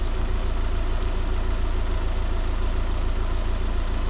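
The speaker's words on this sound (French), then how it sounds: "on va la laisser tourner un peu au ralenti" A car engine idles steadily during a head gasket check, a dense, even mechanical chug with a faint ticking knock, loud and close with no voices.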